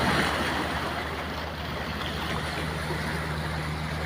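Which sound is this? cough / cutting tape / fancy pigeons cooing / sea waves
sea waves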